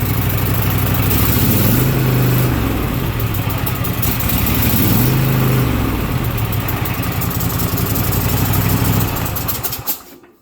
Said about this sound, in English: The exhaust noise I'm hearing